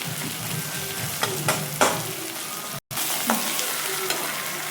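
Tomatoes cooking in oil for a bitter gourd curry, a steady sizzle broken by a few sharp spoon scrapes and one brief dropout, close up with no talking.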